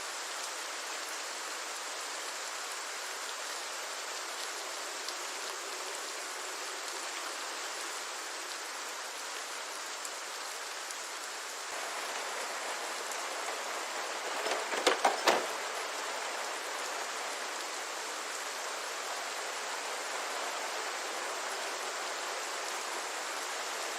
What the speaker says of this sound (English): There's also new rain layers for vehicles and trees, so if you're nearby to these objects in the rain, you'll be able to hear the rain hitting them